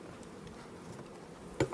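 Honeybee colony in an opened hive, a low steady buzz throughout at a quiet level, with a brief louder burst near the end.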